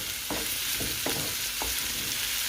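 Onions frying in a pan over low heat, a steady hissing sizzle with several evenly spaced stirring scrapes about half a second apart, close and alone.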